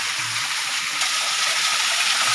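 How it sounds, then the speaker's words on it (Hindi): A hillside waterfall near a village gushes in a steady, dense roar of falling water, close and loud throughout without pauses. "एक बार झरने का पूरा स्वरूप देखते हैं"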